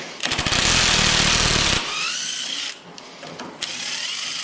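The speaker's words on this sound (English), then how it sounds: "I have to drill them from the back side because the old holes are already there" A power drill bores bolt holes through the wooden frame of a 1946 Chris Craft Bright U22 boat, one loud close whining burst followed by quieter running and a brief restart.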